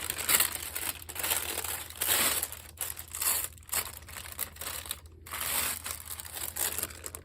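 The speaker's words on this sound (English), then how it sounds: "I do apologize if you don't like the crinkle" Parchment paper being crinkled and folded by hand at close range, a continuous crackly rustling that swells and fades in waves over a low hum.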